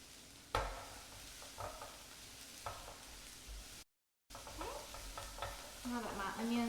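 Onions softening and caramelizing in a pan with brown bits forming, salt and pepper just added, give a steady low sizzle with scattered utensil scrapes and clacks; a short dropout falls in the middle and louder clattering comes near the end.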